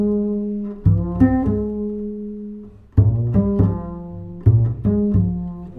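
Song intro melody borrowed from an earlier song, heard as a rich chordal phrase of several sustained, harmonically layered notes with a lower line, played alone without talk.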